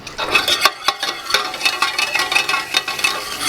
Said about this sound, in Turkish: Soğan tozu, kimyon, sade yağ karıştırdım.